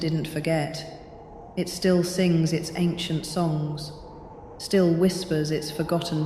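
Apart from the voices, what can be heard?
No everyday noise stands out behind the speech.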